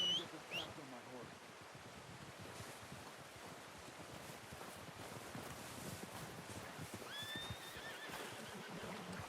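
A horse whinnies briefly at the start in the Red Dead Redemption 2 video game, followed by soft ambient outdoor noise and faint shuffling, with the neigh fading into a quiet, steady background.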